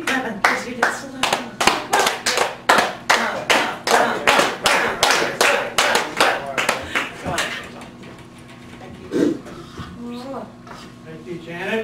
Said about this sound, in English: I'll keep clapping because you did so loud.